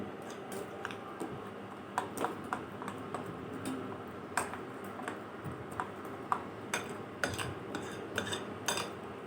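A spoon stirs batter made with water for gola ruti in a bowl, giving repeated light clinks and taps against the side with soft scraping between them, close and moderately quiet, with no talking.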